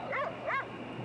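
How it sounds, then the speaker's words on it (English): Dog barking in a Goosebumps episode, two quick tonal barks in succession, fairly faint and alone. "Dog."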